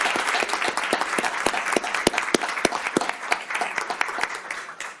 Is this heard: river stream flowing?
no